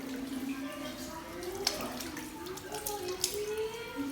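Water running steadily from a tap with soft splashing as hands are rinsed up to the elbows, a couple of brief clicks, faint voice in the background.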